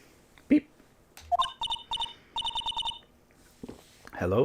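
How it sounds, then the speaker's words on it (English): A found cell phone rings in repeated electronic trilling bursts: two quick groups followed by a longer run of evenly spaced beeps, loud and close. A voice briefly sounds before and after the ringing. "And suddenly that cell phone started ringing."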